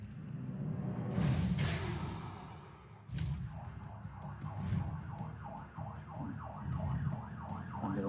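A fire engine siren wails outside, faint and distant, its rising and falling tone repeating steadily under low room noise with a few soft thumps.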